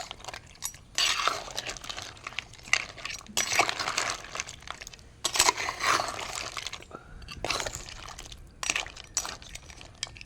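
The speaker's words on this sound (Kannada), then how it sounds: "ಇವಾಗ ನಾನು ಮಸಾಲವನ್ನು ಹಾಕಿ ಒಮ್ಮೆ ಮಿಕ್ಸ್ ಮಾಡ್ತೇನೆ." A spoon stirs masala into a thin, watery curry in a pot while cooking a rainy-season village dish. Irregular metallic scrapes and clinks come in bursts, close up, with no talking.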